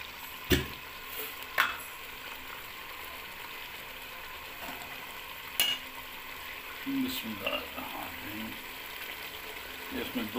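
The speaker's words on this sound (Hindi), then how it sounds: "इसको अच्छी तरह भूनूंगा मैं तकरीबन 3-4 मिनट" Tender goat head meat fries in oil, a steady close sizzle broken by a few sharp clicks and clatters of stirring, with faint voices now and then.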